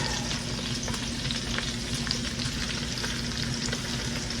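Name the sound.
cabbage cooking in bacon grease in small pot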